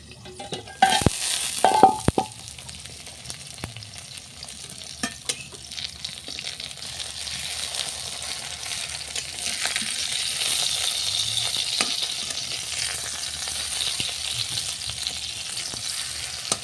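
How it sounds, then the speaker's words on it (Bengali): Puli pitha fry in oil over a clay stove in a village kitchen, opening with a few clattering stirs before settling into a continuous, gradually louder sizzle close by. "এখন আমি ভেজে নেব।"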